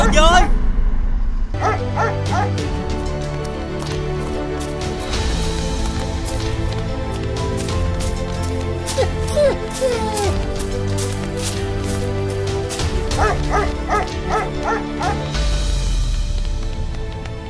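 A cartoon dog in a 3D Vietnamese fairy-tale animation barks and yips in repeated short bursts over background music, with voices talking alongside.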